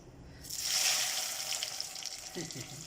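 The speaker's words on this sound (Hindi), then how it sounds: "तो चलें अब इसे हम कुकिंग ऑयल में फ्राई करते हैं" Chicken potato cutlets go into hot cooking oil in a kadhai and fry with a loud, steady sizzle that swells after the first half second and then keeps crackling. A soft clink of a utensil comes near the end.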